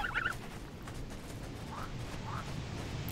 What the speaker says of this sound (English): Is that a duck? I hear quacking.